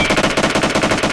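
Rapid automatic gunfire in the shooter game BGMI, a loud, close burst of evenly spaced shots fired in quick succession.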